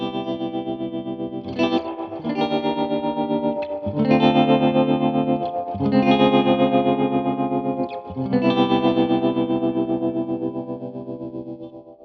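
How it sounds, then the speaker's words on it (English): Electric guitar through a Supro Black Magick Reverb amp with reverb and tremolo turned up, ringing sustained chords in pulsing waves with a wash of echo, loud and alone. "they have this high mid response in the reverb and in the tremolo that I just dig"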